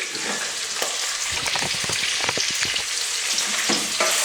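Steady sizzling of shrimp heads in a hot pan, loud and continuous, with occasional clicks of food being stirred.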